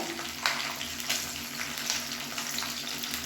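Dried red chillies and green chillies fry in a pan, a continuous crackling sizzle with small popping bursts, moderately close and steady, with no talking.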